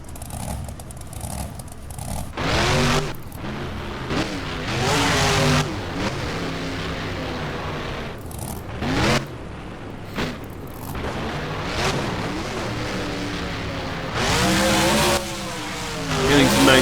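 A monster truck engine in the BeamNG driving game revs and roars in repeated surges during a freestyle run, loud and continuous, with a commentator talking over it.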